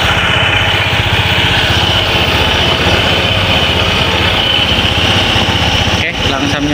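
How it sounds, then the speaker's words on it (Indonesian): A close, loud engine running on Motul 10W30 oil chugs in a steady, rapid idle throughout, with a brief knock near the end. "Ini kondisi mesinnya setelah memakai 10 ya, mesin menggunakan oli 10W30"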